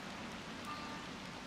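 Steady rain falling in the video game Wild Hearts, a dense, even hiss that holds at one level for the whole moment with no breaks and no voices.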